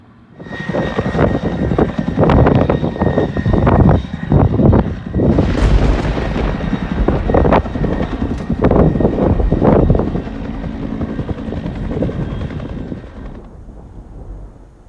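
A fire and rescue helicopter carrying a water bucket passes overhead during a windstorm, its loud rotor and engine roar swelling and fading over about fifteen seconds.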